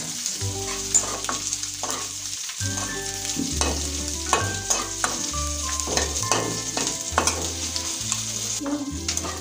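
Nigella seeds hit hot oil already seasoned with dried red chillies and bay leaf, bursting into a steady close sizzle broken by sharp crackles and the scrape of stirring, with metallic clinks against the pan.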